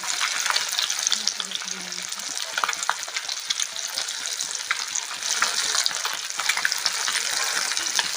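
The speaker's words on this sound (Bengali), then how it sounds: "মাছগুলো তেলে দিয়েছি।" Fish fried in hot oil sizzle and crackle steadily throughout, a close, continuous hiss with small pops and no talking.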